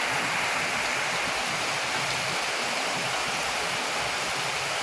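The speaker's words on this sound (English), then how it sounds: "we are having a pour down again" A heavy rain downpour pours outdoors near a chicken kennel, a steady, loud, unbroken hiss of water that stays constant throughout with no voices.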